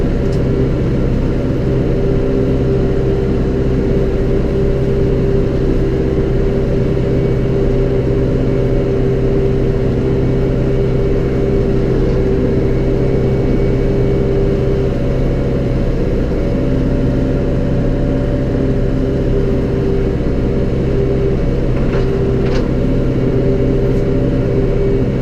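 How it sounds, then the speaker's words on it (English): A John Deere 5R tractor runs steadily while bush hogging, its engine and the rotary mower behind it making a loud, continuous low drone with little change across the stretch and no talk. "I think this may be my first time bush hogging with the John Deere tractor"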